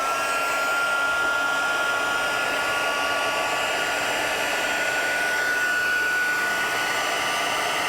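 An embossing heat tool blows steadily over embossing powder on a birthday card, a constant close airy whir like a hair dryer, unbroken for the full eight seconds without any voices.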